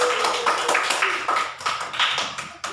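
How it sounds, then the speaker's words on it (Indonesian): Hands clapping together in a primary school classroom, a rapid, uneven patter of many claps that carries steadily through the moment without talk. "Ya, tepuk tangan dulu. Tepuk tangan dulu."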